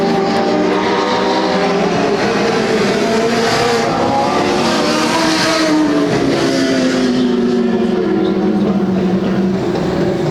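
Legend race cars roar past at close range toward the checkered flag, a loud continuous engine drone with shifting pitches as several cars pass, no talk over it.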